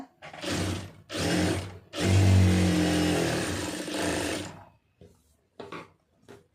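A sewing machine stitches along the scissor-cut line of a lined blouse in several short bursts, one longer run in the middle, close and fairly loud, ending in a few brief taps.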